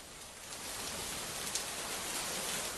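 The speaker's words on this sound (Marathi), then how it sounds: "पुण्यामध्ये सुद्धा पावसाची संततधार सुरू" Steady heavy monsoon rain falling in Pune, a dense continuous hiss of downpour with no pauses and no voices.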